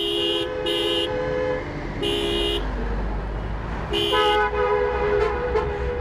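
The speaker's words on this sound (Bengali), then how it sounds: "সে তো শুনতে পাইছে যে আমি হর্ন দিছি" A vehicle horn honks in several bursts, two quick blasts, then a longer one and another after a pause, loud and close over a low engine rumble.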